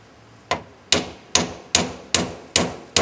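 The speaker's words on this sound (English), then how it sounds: "I'm just careful nailing" Hammer driving nails into plywood roof sheathing, seven sharp close blows at an even, quick rhythm, each ringing briefly before the next, with no talking.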